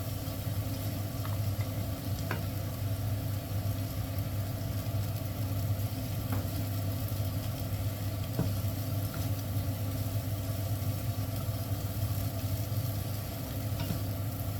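Rice stir-fried with vegetables in butter in a pan, a steady close sizzle with faint scraping stirs under a constant low kitchen hum, no voices.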